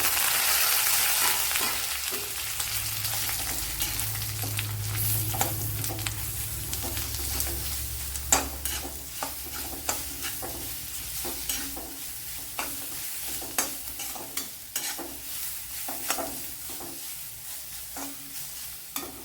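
Egg chammanthi fried in a pan with curry leaves hisses softly while a spoon scrapes and taps the pan in a regular stirring rhythm, close and alone without speech.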